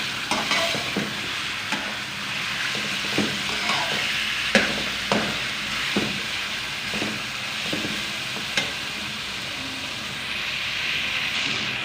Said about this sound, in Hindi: चिकन को 6 से 7 मिनट के लिए अच्छे से भून लेंगे